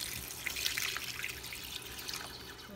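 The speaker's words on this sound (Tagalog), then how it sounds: "Lagyan na natin ng tubig, medyo nagda-dry na siya." Water runs steadily into a cooking pot of chicken tinola for a few seconds, a continuous splashing, gurgling pour close by.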